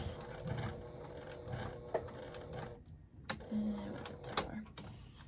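A sewing machine runs a box stitch across and up a fabric wristlet strap, its steady mechanical whirring broken by brief pauses as the work is flipped, with a person talking over it.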